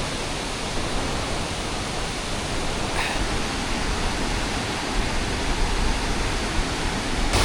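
Ranpat Ukshi waterfall roars in a dense, unbroken rush of falling water, loud and close, filling the whole scene with no voices.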